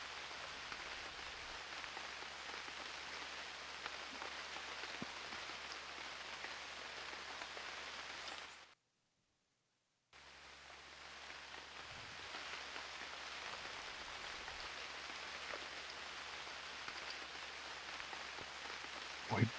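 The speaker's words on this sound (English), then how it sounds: "But the rain didn't stop." Rain falls in the survival game UnReal World as an even, hissing patter that holds steady, drops out completely for about a second, then resumes at the same level, with no voices.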